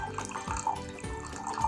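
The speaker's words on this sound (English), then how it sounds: "carefully pour the vinegar into the cup" Vinegar poured into a cup for a baking soda balloon experiment, a short close trickle of liquid with small splashy drips throughout.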